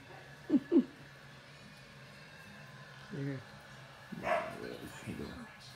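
Puppies give a couple of quick, close barks, then softer yips and whimpers a few seconds later, fairly quiet, with a person talking near them.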